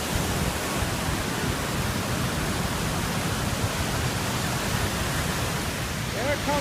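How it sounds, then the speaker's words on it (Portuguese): Spontaneous waterfall plunging into a deep gorge beside a narrow mountain road in Nepal, a steady, dense roar of rushing water that fills the whole clip without pause. "surgiu uma cachoeira espontânea, despencando em um desfiladeiro profundo"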